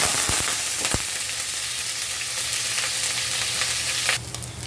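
Hot cooking oil sizzling and frying in a pan while preparing kalabasa and sitaw, a loud steady crackle with a few sharp pops, which briefly changes character near the end.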